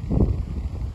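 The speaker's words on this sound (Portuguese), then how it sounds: "Olha, ó, o vento que tá na água. Fica bacana, ó, batendo na água." Wind blowing across river water, a close, gusty low rumble buffeting the microphone for about a second, strongest at the start and then settling into a steady roar.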